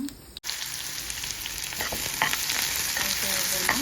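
Sliced onions with curry leaves frying in a pan after mustard seeds have popped, a continuous close sizzle that swells after a brief dip, with light stirring scrapes and crackles.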